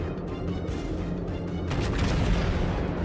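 Heavy battleship turrets aboard the Konig fire on an enemy aircraft carrier in a naval video game, producing a dense, loud, continuous rumble of booming salvos that swells toward the end.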